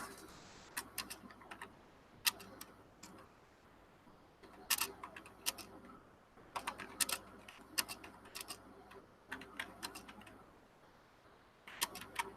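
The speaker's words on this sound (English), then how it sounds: "Sorry, I'm typing in the chat." Soft, quiet clicking of a computer keyboard as someone types a chat message, keystrokes coming in irregular bursts and short runs over a faint room hum.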